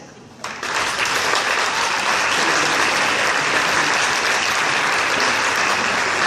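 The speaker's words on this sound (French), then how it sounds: "tout le monde nous applaudira dans la salle" An audience claps at a hypnosis show in Bayonne, with sustained, dense applause from the crowd that begins suddenly and carries on steadily and fairly loud to the end.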